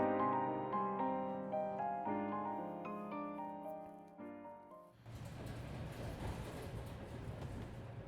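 Train ride ambience in the video game Sofia? by Hatoge: a few seconds of soft melodic tones give way to a steady, moderately loud rumble of a moving train carriage that continues evenly to the end.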